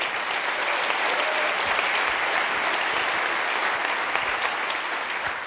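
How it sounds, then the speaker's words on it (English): A seated audience at a Superstar Retreat session gives a sustained round of applause, steady dense clapping filling the room from start to finish with no talk over it. "Let's give those ideas a nice round of applause"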